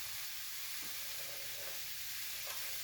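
Pumpkin and onion softening in a pan give off a steady, quiet sizzle with faint stirring. The sound is even, with no talk over it.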